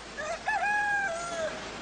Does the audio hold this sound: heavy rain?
no